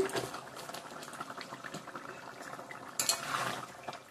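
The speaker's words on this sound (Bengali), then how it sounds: "ঝোলটা দেখো কতটা কমিয়ে আসছে" Chicken curry gravy simmers and reduces in a pot on a home stove, giving a faint, steady bubbling with a few soft clinks of a utensil near the end.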